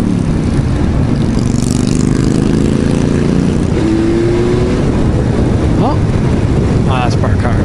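Yamaha MT-09 motorcycle engine heard on a test ride, a loud steady drone with rising revs and wind rush, close and continuous under brief talk.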